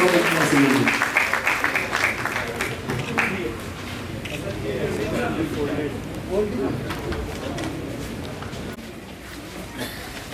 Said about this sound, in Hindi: मैं निवेदन कर रहा हूँ सम्मानित अतिथियों से जोरदार तालियां बजाकर स्वागत करें।